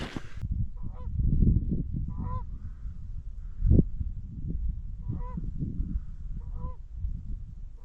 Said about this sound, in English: That was two Canada geese as I was about to start up the camera.